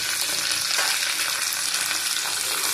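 Panch phoron spices frying in hot oil for a moong dal with pumpkin stems, a steady dense sizzle that stays loud and unbroken throughout with no talking.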